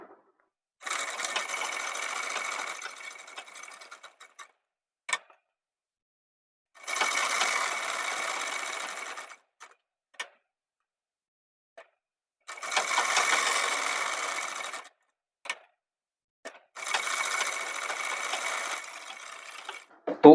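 Sewing machine stitching a men's V-neck kurta in four separate runs of a few seconds each, a close buzzing whirr broken by silent pauses and brief clicks as the fabric is repositioned.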